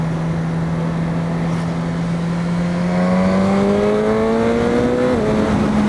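A Suzuki GSX-S motorcycle accelerates under partial throttle, its engine note climbing steadily in pitch, then dropping briefly with a shift before pulling on. No talk.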